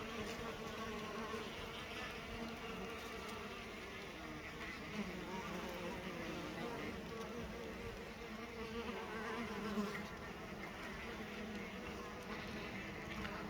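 Honeybees collecting propolis on an empty hive make a dense, continuous buzz of many insects close by, steady and unbroken throughout.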